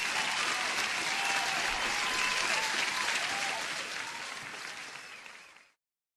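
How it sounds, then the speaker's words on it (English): A recorded applause sound effect of a crowd clapping steadily and loudly, then fading out over several seconds and cutting to silence. "Let me give you an applause."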